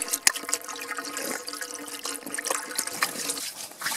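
A clear stream with trout flows steadily nearby, its water trickling and babbling continuously at moderate loudness.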